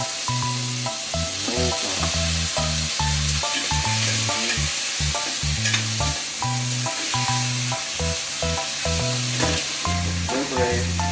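Onions and tomatoes sizzle and crackle steadily in a hot frying pan, a constant close hiss with light stirring, all under rhythmic background music.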